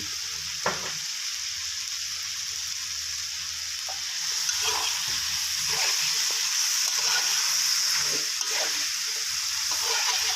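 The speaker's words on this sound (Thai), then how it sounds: "ผัดคลุกเขาไปนะครับเรื่อยๆนะครับ" Pork stir-fries in a wok with red curry paste, long beans and basil, a continuous close sizzle that swells louder midway, punctuated by occasional spatula scrapes and clinks, with no talk.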